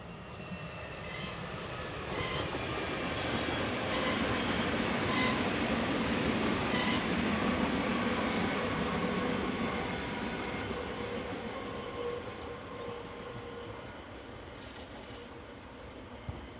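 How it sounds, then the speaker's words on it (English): An ÖBB Class 4024 electric multiple unit on a southbound local service near Bischofshofen passes by, its rolling roar swelling to a peak midway with rhythmic wheel clicks over rail joints, then fading, no voices. "First on the scene is a Class 4024 unit, number 108, heading a southbound local service"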